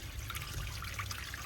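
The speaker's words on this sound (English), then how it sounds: "So I am gonna pull this, and then you'll see just clear water." Clear water draining from a camper van tank through a dump hose, a faint steady trickle and gurgle with low rumbling flow underneath, quiet and alone.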